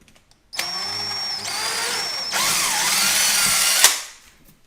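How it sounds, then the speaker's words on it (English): A power drill bores a small pilot hole into a wall for a picture-hanging anchor, whining steadily for about three seconds at close range. Its pitch shifts partway through and the motor cuts off sharply at the end. "Like a quick little pre-drill to allow that anchor to catch and smoothly go in."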